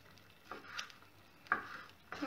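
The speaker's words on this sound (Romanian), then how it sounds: "Și amestecăm." Yogurt mixed with apples, nuts and tangerines being stirred in a bowl, giving a few soft, scraping strokes spaced across a quiet moment, fairly close.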